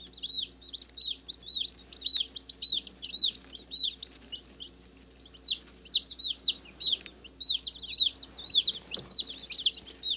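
A group of baby chicks cheep in rapid, high-pitched overlapping peeps, with close, continuous chirping and short pauses between bursts.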